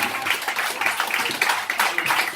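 Audience applause at a stand-up comedy show in Toast Bar, Dunedin: dense, steady clapping from a small crowd filling the room, continuous without a break, with faint voices mixed in.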